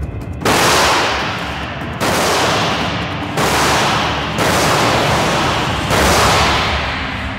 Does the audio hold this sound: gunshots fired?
yes